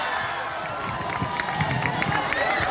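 School farewell audience cheering and applauding as a winner is announced: a steady, dense crowd roar of claps and shouts that holds loud throughout, with scattered voices mixed in.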